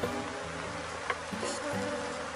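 Honeybees from a swarm buzz steadily around hive boxes, a continuous close drone with shifting pitches as individual bees pass by.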